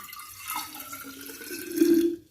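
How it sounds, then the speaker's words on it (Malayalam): Water pours briefly into a container, a close trickling splash that rises in pitch toward the end before stopping. "കുറച്ച് വെള്ളം ഒഴിച്ചു കൊടുക്കുക"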